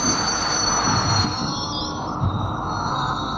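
A train rolls along in a video game match, a continuous rumble of wheels on rails with high metallic squealing throughout, loud and steady, with no speech.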